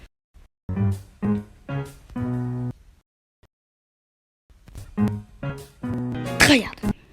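A person voices a string of exaggerated "atchoum" sneezes, imitating sneezing with the voice, in two loud bursts separated by a quiet gap, with the final sneeze the sharpest.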